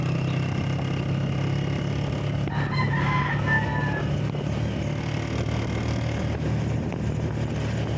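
A chicken crows once midway through, moderately distant, over a constant droning engine hum. No other sound stands out.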